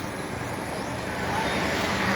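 Family car travelling from Tagum City toward Manila through Agusan del Norte, a steady soft road and engine hum heard from inside, fairly faint and constant.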